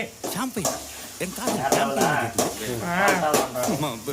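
Vegetable noodles with beans stir-fry in a pan, a steady sizzle and scraping stir running underneath a person talking throughout.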